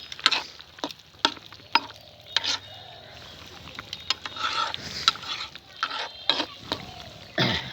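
A Bengali rui fish curry stirred in a pan: uneven clinks and scrapes of a utensil against metal over a soft bubbling simmer, close up.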